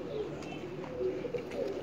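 Champion pigeons coo softly on a rooftop loft, a few low burbling calls close by against a steady background murmur.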